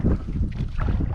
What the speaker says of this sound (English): Wind's blowing me around.